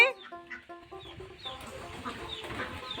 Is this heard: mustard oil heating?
no